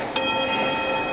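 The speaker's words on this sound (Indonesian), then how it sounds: "Oke, bel sudah berbunyi." A school bell in a classroom rings once with a bright, sharp onset and then holds a sustained metallic tone, with no voices.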